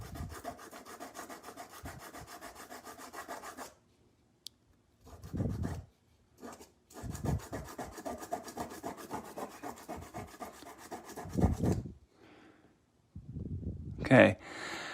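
Light rasping rubs in short bursts, close by, with pauses between strokes and a faint voice now and then: lightly sanding a 3D-printed plastic roof cap part for a Kenworth W900L model truck.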